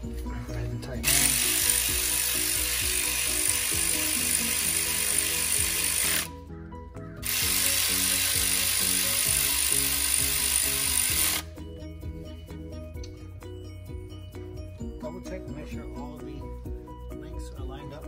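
Power tool driving bolts tight on a 2006 Toyota Tundra 1GR-FE 4.0 engine during head gasket replacement, a loud steady whirring burst that cuts out briefly, resumes, then gives way to quieter background.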